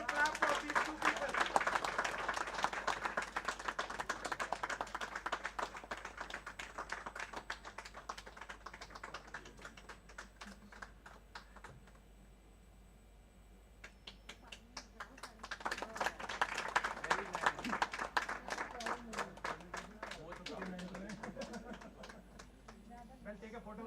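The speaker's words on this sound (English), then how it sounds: "let's continue to clap for these two people" An audience at a live moot GST tribunal event claps in two long rounds of applause separated by a quieter lull, with a voice talking over the clapping.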